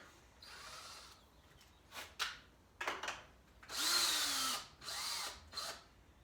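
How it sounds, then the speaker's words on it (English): A power drill pre-drilling holes for a bench shelf whirs in several short bursts, revving up and down with brief pauses between, close and fairly loud. "Here's a drill bit to pre-drill these holes."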